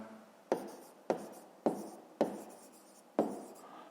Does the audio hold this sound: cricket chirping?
no